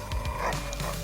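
A police K9 dog in The Precinct video game gives a short, muffled bark or two under a steady background hum.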